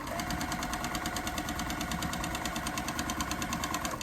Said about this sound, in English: is the thread cutter supposed to be so loud?